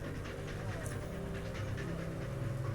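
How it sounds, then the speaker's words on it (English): A steady, low creature growl rumbles continuously behind a wall in the Underrail video game, dense and sustained throughout. "Steady growl seeps through the cracks in the wall, and it gets louder and louder."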